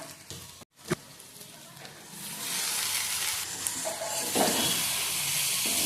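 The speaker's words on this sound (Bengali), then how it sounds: "এবার মেথি শাক ভালোভাবে আলুর সাথে ভেজে নেব" Fenugreek greens fry with potatoes in a pan, giving a steady sizzling hiss that swells in the second half, with a brief stirring scrape near the start and no voices.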